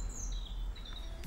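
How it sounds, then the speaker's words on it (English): Small birds twitter outdoors around a solar-powered trail camera, a few thin, high chirps carrying faintly over a steady low background hum, with no voices. "hopefully you can hear the birds twittering in the background"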